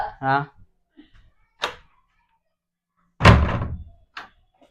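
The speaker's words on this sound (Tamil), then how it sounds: "சரி, கதவு சாத்தி விட்டு போ." A house door is shut with a single solid thunk, framed by brief bits of speech before and after it.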